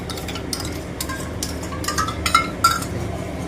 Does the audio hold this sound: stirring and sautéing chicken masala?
yes